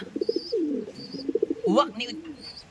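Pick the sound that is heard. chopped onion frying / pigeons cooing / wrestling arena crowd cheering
pigeons cooing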